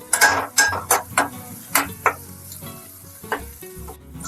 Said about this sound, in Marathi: व्यवस्थित कांदा परतवून घ्यायचा बघू शकता थोडासा ब्राऊन होईपर्यंत